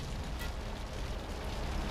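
A sustained, roaring explosion rumbles steadily in the GTA video game, a dense, loud wash of noise with no speech over it.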